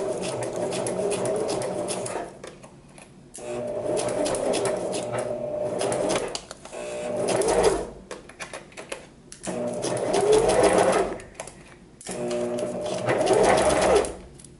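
A sewing machine stitches tulle fabric with a standard size 14 needle, whirring in steady runs of a few seconds each, broken by brief pauses, close and clear.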